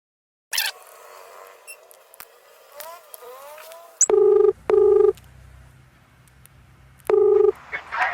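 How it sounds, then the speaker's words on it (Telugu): A phone dialing a call, with soft taps followed by three loud, steady ringback tones in a row, separated by quiet pauses, with no talking over them. "ఆమెకైతే ఇప్పుడు కాల్ చేస్తున్నా."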